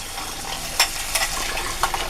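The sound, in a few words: rinsing dishes under hot tap water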